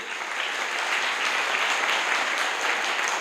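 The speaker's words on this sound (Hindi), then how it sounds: "जोरदार ताली उनके लिए।" Audience at a business seminar in Hajipur giving a hearty round of applause, a thick continuous patter of many clapping hands at steady moderate loudness throughout, with no talking over it.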